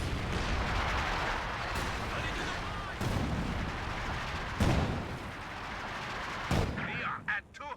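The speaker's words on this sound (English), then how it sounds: "Incendiary barrage onto the 120mm mortar." Incendiary artillery barrage in Company of Heroes 2, aimed at a 120mm mortar: several heavy shell impacts land a second or two apart, each a sharp booming crack over a constant roar of battle noise.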